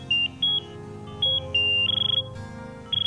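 A phone rings indoors with electronic ringtone chirps in short repeated bursts, one longer trilling burst midway, loud and near with no talk.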